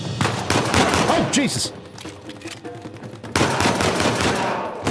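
Gunfire crackles in the video game Uncharted 4, with dense rapid shots and bursts of automatic fire, loud and close, while a man exclaims over the action.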